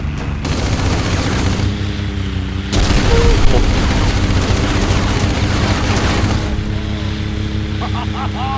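A helicopter in the video game Battlefield Heroes gives off a dense, continuous roar, loud and close throughout, with gunfire and explosive bursts mixed into the din.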